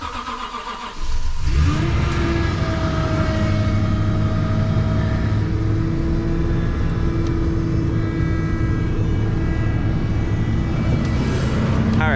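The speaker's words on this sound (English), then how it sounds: "we got a cold start for Tundra" A Toyota Tundra pickup's engine cranks and fires in freezing cold, then settles into a loud, steady idle with a faint whine over it, continuous for several seconds with no talking.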